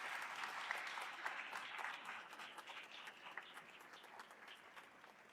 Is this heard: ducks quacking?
no